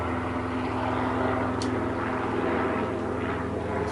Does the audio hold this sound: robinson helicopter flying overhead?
yes